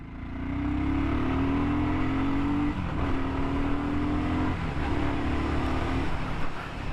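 A BSA Gold Star 650 motorcycle engine while riding, a loud close exhaust drone that rises in pitch under acceleration, dips briefly at gear changes, then climbs again, with no voices.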